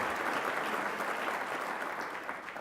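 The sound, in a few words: applause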